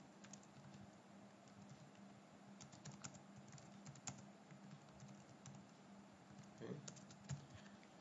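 Keys clatter on a computer keyboard as a rubric name is typed, a faint, irregular run of soft taps with a quiet voice talking alongside.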